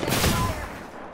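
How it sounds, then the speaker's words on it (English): A loud, close burst of rapid gunfire in the video game Apex Legends rattles out at once, then trails off into a fading echoing tail within about a second. "I'm taking fire"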